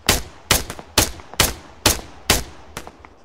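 Seven evenly spaced gunshots from Arma 3 crack loudly and close, about one every half second, each with a short echoing tail, and the last one trails off fainter.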